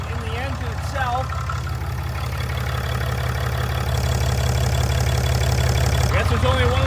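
A freshly upgraded Dodge 6.7 Cummins diesel idles right after starting, with a steady, low, rumbling throb close by. Someone talks over the engine throughout.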